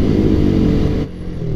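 A motorcycle accelerates along a city street at night, a loud, close engine drone with a rising rumble that eases off near the end.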